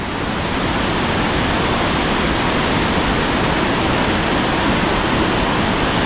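A waterfall roars in a dense, steady rush of white water, loud and unbroken throughout, with no voices.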